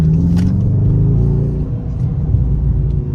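A Dodge Charger pulls away with a steady, loud low engine rumble and a slight rise in revs, heard up close from inside the car with no talking.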